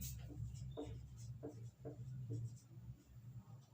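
Pen or chalk strokes scratch out a Class 10 maths lesson on similar triangles in a steady rhythm of short, soft marks over a low room hum.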